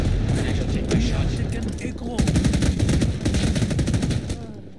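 Rapid automatic gunfire in the Vietnam War shooter Rising Storm 2: Vietnam, loud dense volleys of shots with distant battle noise and a brief lull, and someone talks over it.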